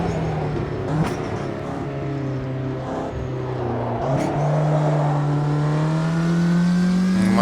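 The engine of a Ginetta G40 race car in Automobilista 2 revs loud and close, rising in pitch through gear changes with brief dips between, then pulling steadily higher.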